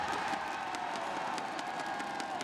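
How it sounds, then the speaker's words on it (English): A crowd at a Valorant VCT LOCK//IN esports match cheers in a loud, sustained roar with whoops, filling the arena continuously. "You see the crowd loving it as Krü gives them a reason to cheer"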